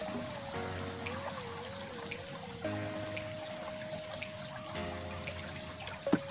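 A stirred insecticide mixture for chili leaf curl pours into a sprayer tank, a steady trickling stream of liquid heard up close alongside faint tonal whines and light knocks.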